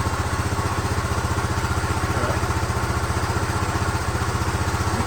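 A 1974 Honda motorcycle engine idles steadily, a loud close-up, even rapid thumping pulse with clattery mechanical noise and no talking.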